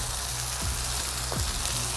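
Onions sautéing on a flat griddle during pizza-night cooking give a steady, close hiss of frying, with a couple of faint scraping sweeps from a spatula.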